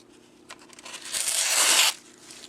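A sharpened knife, freshly edged on a Lansky system to a 40-degree inclusive bevel, slices through paper in one tearing cut lasting under a second, with a few light scrapes before it, close and fairly loud.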